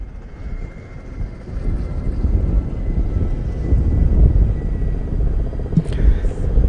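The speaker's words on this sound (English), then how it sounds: "Three Kamov 31 helicopters, the Falcons, are up next" A steady, low rumble of three Kamov 31 helicopters passing overhead at a naval display builds slowly and stays loud throughout, with a brief sharp noise near the end.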